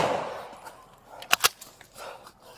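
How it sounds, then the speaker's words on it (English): Two sharp gunshots in quick succession, fired by an armed suspect at LAPD officers after a foot pursuit, short and moderately distant against a faint background. "Shots fired, shots fired."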